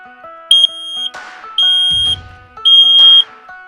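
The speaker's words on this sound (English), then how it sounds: "Our smoke alarm tested." Piercing electronic beeps from a smoke alarm being tested in a motorhome sound in three bursts, with brief gaps between them and a low rumble partway through.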